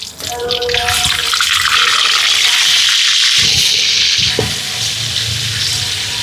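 Garlic goes into hot crocodile fat and bursts into a loud, hissing sizzle that gradually settles down.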